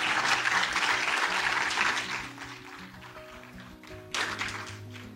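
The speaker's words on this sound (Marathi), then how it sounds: "एकदा जोरदार टाळ्या त्यांच्यासाठी झाल्या पाहिजे" An audience applauds to welcome the senior poet Dr. Aruna Dhere onto a stage at a literary event. The clapping is steady and dense at first, fades toward the middle over a low musical hum, then swells briefly again near the end.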